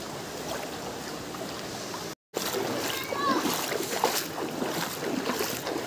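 River water splashes and churns in an area prone to flooding, a steady close rushing wash with brighter splashes, broken by a brief dropout partway through.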